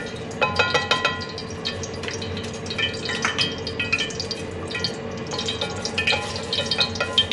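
Pork ribs shallow-frying in a pan, giving a dense, continuous crackle and sputter with irregular pops and spits throughout.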